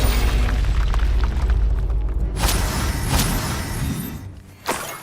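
Explosion spells going off in the Hogwarts Legacy video game, a rumbling boom bed with several sharp blasts bursting out near the end, loud and without talk.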